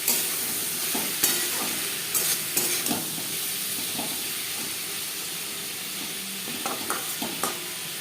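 Onion and tomato sizzle and fry in hot oil for a spicy tilapia curry, a steady hiss broken by repeated scraping stirs of a spoon against the pan, close and fairly loud.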